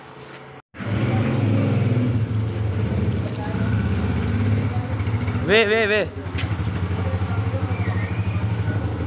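A father's motorcycle engine runs steadily at close range as the bike is brought out, a continuous low rumbling drone under a voice calling out repeatedly, with a brief high whistle-like sound partway through.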